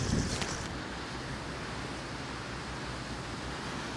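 Steady wind roars across a winter shoreline during bass fishing, a constant broadband rush with a slightly stronger gust at the start and no talk.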